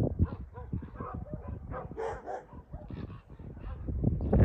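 A couple of shelter dogs bark and yip close by in a rapid, irregular volley, mixed with whimpering whines, loud and busy throughout with no speech over them.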